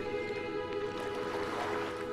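Continuous watery rushing and splashing from the water effect in the video game The Witcher 3, with a steady background hum, moderately loud and unbroken throughout, with no voices.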